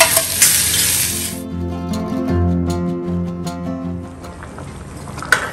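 Chickpeas for chickpea sundal sauté in hot oil in a home kitchen, giving a soft steady sizzle with stirring scrapes and a few clinks of utensil on pan, while a low hum runs underneath.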